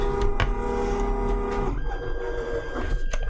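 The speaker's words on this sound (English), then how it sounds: "the printer should start any moment now." A 3D printer starts printing a keyboard mounting plate, its stepper motors giving a steady tonal whine that shifts pitch partway through, with faint clicks and mechanical rattles close by and no talk.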